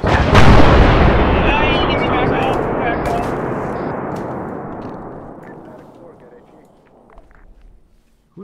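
A loud, heavy gunfire blast in Arma 3 booms close at the start and rolls into a long, thundering decay that fades over several seconds, with voices talking over it.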